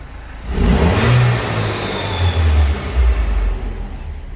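Citroen DS3 fitted with a performance induction kit revs hard up close, a loud rising roar that eases off and then surges again in short bursts, with no talking.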